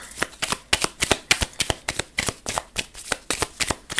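A deck of playing cards being shuffled, with a rapid train of crisp riffling bursts repeating steadily for about four seconds, close and fairly loud, with no talking.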